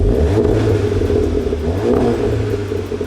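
A Mk7.5 Volkswagen Golf GTI on its stock exhaust revs up close by, a mellow, fairly quiet exhaust note rising and falling over a few seconds.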